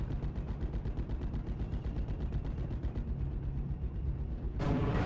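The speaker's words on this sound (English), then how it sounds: "We do got a M2 Browning, so a 50 caliber machine gun." A .50 caliber M2 Browning heavy machine gun in a World War II-style video game, firing a long sustained burst of rapid, evenly spaced booming shots over several seconds, with no voices.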